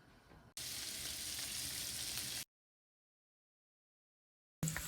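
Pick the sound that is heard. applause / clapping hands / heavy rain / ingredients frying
ingredients frying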